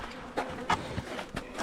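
Honey bees buzzing around an opened winter hive, close and loud, with individual bees droning past in quick passes over a steady hum.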